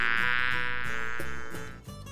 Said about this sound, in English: Good guess, it's a bee.